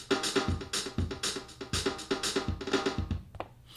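A punchy drum machine groove with steady kick and snare hits, including quick doubled snare strikes, played loud and alone for a few seconds.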